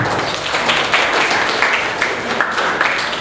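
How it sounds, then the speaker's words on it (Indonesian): Audience applause at a school Christmas service in Jakarta, a dense, steady wash of many hands clapping close by for the full stretch without pause. "Berikan tepuk tangan untuk Tuhan"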